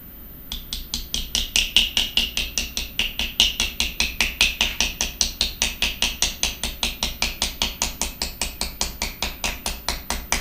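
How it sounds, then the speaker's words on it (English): A nylon hammer strikes a fold in copper sheet again and again, a long run of sharp, evenly spaced taps about four per second, close and clear with no talking. "So I'm going to flatten the fold here with my nylon hammer"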